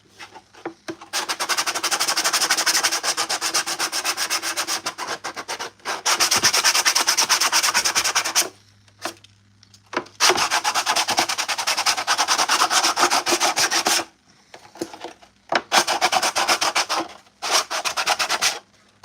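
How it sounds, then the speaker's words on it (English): Steady rasping strokes of hand sanding on plastic clone trooper armor, coming in long continuous bursts separated by brief pauses, close and fairly loud. "No matter what kind of prop you're doing, you're going to end up doing some sanding."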